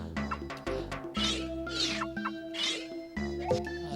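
Meowth's cry in the Pokémon Snap video game, a few short, high, cat-like meows rising over a steady layer of game music, moderately loud and close.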